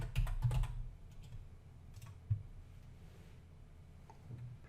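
Quick, soft clicks of a computer keyboard as a name is typed into a new Zoho form, a burst of fast taps at the start followed by sparser keystrokes, close and quiet with no talking.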